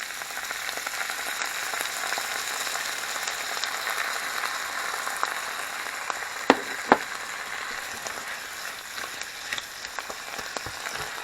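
Onions sautéing in canned chicken juices in a pan for chicken pot pie, a soft continuous sizzle and crackle like light rain, with a couple of sharper pops partway through; no talking.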